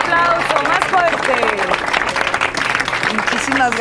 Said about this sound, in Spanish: Esto se merece otro aplauso, más fuerte